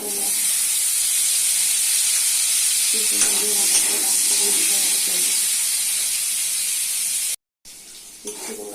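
Onions frying in white oil for a home-style chicken curry, a loud constant hissing sizzle with light stirring scrapes, briefly cutting out near the end before resuming.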